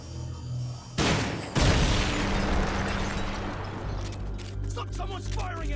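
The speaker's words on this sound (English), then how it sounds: "Someone's firing at us!" Gunfire in Metal Gear Solid Peace Walker: a sudden loud burst erupts and rolls into a sustained rumbling barrage, with rattling shots continuing under the noise as it fades slightly.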